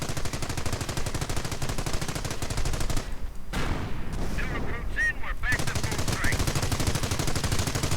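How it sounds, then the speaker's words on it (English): A .30 caliber machine gun in a video game fires long, rapid, continuous bursts. The gunfire stays dense and steady apart from a brief break near the middle, with fainter battle sounds mixed in. ".30 caliber gunner fires away in vain"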